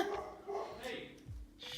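A dog lets out a bark-howl in short yelping bursts, close by, mixed with people talking nearby.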